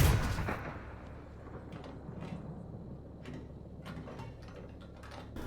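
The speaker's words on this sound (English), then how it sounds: "Now let's shoot the T70, or yeah, the T72 here. Let's see what it does. Let's fire." A tank cannon fires at a T-72 in the game GHPC: one heavy, loud blast at the start, then a low mechanical rumble with scattered clanks and ratcheting as the gun cycles.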